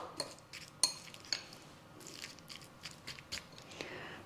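Someone eats crunchy tuna salad with apples, celery and almonds straight from a bowl, with crisp bites, a few sharp clinks of a utensil on the dish, and soft chewing up close.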